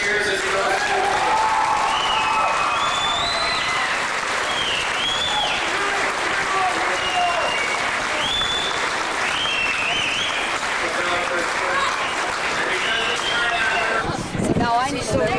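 A large outdoor crowd in Prince Albert, Saskatchewan cheers and applauds, loud sustained clapping mixed with whistles, shouts and chatter. Near the end the clapping thins and a nearby voice speaks up.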